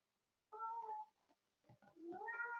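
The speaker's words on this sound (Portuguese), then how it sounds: "O meu gato participando da nossa aula." Domestic cat meowing close to the microphone in a quiet room during an online class, two drawn-out meows separated by a short pause with a few faint chirps between.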